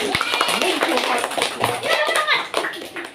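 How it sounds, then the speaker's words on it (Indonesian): Classroom students clap together in a brisk, close burst of applause, with a voice and children's chatter mixed in over the clapping. "Tepuk tangan untuk kalian semua dulu."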